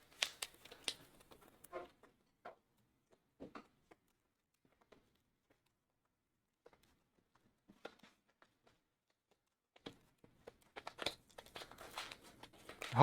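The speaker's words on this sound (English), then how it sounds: "We're shuffling these cards back into my deck from my Diana deck." Playing cards for the Arkham Horror card game being shuffled back into a deck, heard as quiet, scattered papery riffles and flicks, with clustered bursts at the start and end and near-silence between.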